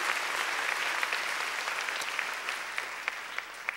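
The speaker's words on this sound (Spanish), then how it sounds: "Dele un aplauso al Señor" A church congregation claps steadily for several seconds, a dense patter of hands that holds even and then thins slightly toward the end.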